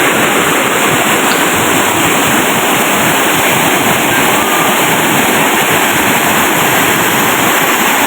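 A waterfall roars as a loud, constant wash of falling water, steady and close for the whole stretch with no voices over it.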